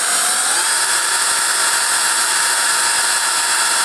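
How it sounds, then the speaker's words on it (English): A carbide drill bores out a broken bolt on a pit bike with a continuous high, harsh whine, close and loud throughout. "that carbide drill is drilling quite nice"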